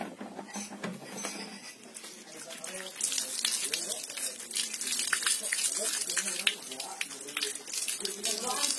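Tap water runs and splashes while chicken is washed by hand, a steady rushing flow with wet patter and crinkling that grows louder partway through, and a voice speaks over it.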